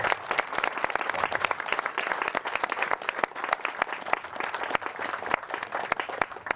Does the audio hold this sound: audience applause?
yes